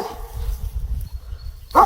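A dog reacts to a tense confrontation in a forest with a sharp bark close by at the end, after low rumbling and faint noise.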